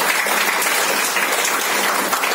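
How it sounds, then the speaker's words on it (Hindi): A crowd at a Women's Day celebration in an office in Dadar claps in dense, continuous applause, loud and close, with no break for the full stretch. "अनलिमिटेड, इनके लिए तालियां होनी चाहिए"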